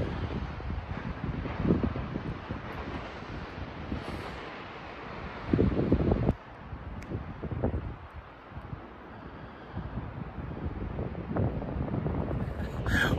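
Wind buffets the microphone in gusty roaring bursts during a Honda Transalp motorcycle ride in Val Tartano, Italy, rising and falling throughout with rustling underneath.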